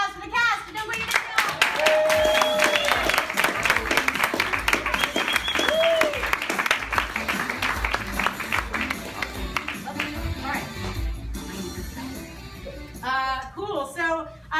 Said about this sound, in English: please, a round of applause for the cast of Don't Quit Your Day